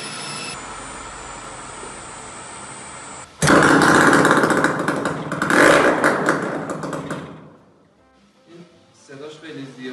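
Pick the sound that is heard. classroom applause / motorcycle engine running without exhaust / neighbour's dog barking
motorcycle engine running without exhaust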